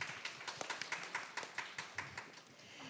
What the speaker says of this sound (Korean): 여러분들 박수로 환영해 주시기 바랍니다.